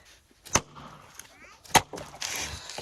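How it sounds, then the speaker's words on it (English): A Fiskars 28-inch splitting axe chopping into a tree outdoors, two sharp, loud thwacks about a second apart, followed by a rustling crack, with a faint voice in the background. "We got the Fiskars 28-inch splitting axe"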